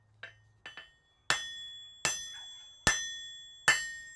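Sharp hammer blows ring out on metal in a smithy: a few lighter taps, then four loud, evenly spaced strikes, each with a bright ringing decay.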